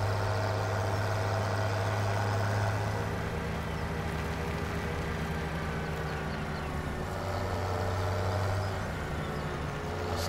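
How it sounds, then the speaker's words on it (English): A tractor engine idles in Farming Simulator 17, a steady low mechanical rumble with a constant drone that holds for about ten seconds and never revs up or drops away. "I like the sound of this one. It's got a good sound to him. Good engine."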